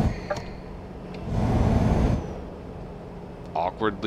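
DAF truck engine in the Euro Truck Simulator driving game, a low steady drone that swells briefly into a louder rumble, then a short hiss near the end, with someone talking over it.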